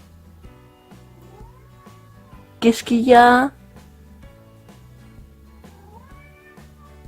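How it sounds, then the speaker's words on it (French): A small kitten meows in a brief burst of a few cries, close and fairly loud, standing out over quiet indoor background while someone speaks softly around it. "j'ai mon petit chaton"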